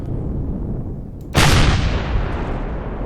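Missiles fire in the Empyrion space survival game, a single sudden loud whooshing blast that cuts in over a low rumbling background and trails off slowly.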